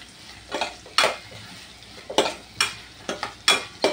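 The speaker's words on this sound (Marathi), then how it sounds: "टोमॅटो सुद्धा व्यवस्थित हलवून घ्यायचे, कारण आपल्याला कांदा आणि टोमॅटोची पेस्ट बनवायची" Onion and tomato fry in oil for chana masala gravy while a utensil stirs them, giving repeated loud scraping strokes about every half second over a low background sizzle.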